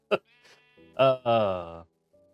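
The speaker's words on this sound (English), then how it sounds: "oh, there's a sheep in there." A sheep in a video game bleats twice, drawn-out wavering calls close and clear after a short click and faint buzz, with no talk over them.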